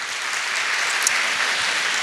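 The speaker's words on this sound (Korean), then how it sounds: "하나님 앞에 감사의 박수를 한번 영광을 올려드리겠습니다" A church congregation at Sunday worship applauds in thanks, producing a steady, dense wash of clapping from many hands throughout.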